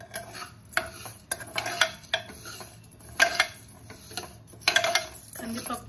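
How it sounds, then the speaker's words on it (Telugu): Toor dal is dry-roasted in a pot on the stove, with a spoon scraping and rattling it in repeated bursts of gritty stirring, close but moderately quiet, and a voice talks faintly in the gaps. "కందిపప్పు కొద్దిగా కలర్ మారేంత వరకు పప్పును ఫ్రై చేసుకుందామండి"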